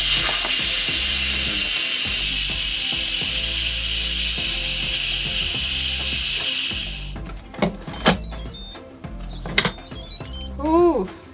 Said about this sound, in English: coffee's a bubbling.